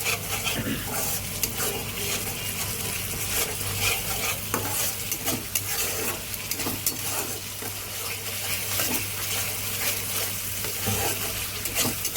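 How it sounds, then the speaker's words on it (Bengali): Ground mustard and poppy seed paste sizzles in a pan for a Bengali hilsa fish curry, with a constant frying hiss and repeated scraping strokes as it is stirred. "এবার ওই সরষে পোস্ত বেটে রেখেছিলাম ওটা দিয়ে দিচ্ছি।"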